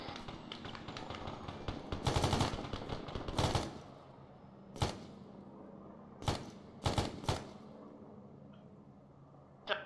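Bursts of machine gun fire from Apache helicopters in the Arma 3 video game rattle out in several short, sharp volleys separated by quieter gaps.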